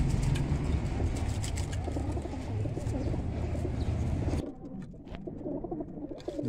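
Golden pigeons coo in low, soft repeated calls, steady for several seconds before the background noise drops away and a few more coos continue, with no talk.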